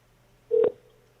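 A single short electronic beep tone from a voicemail recording, clear and isolated over a faint steady hum.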